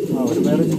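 A pigeon gives a short, close, low coo, a single brief call heard clearly.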